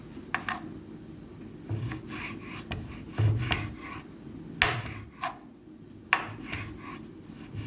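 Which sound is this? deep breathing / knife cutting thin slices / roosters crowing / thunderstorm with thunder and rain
knife cutting thin slices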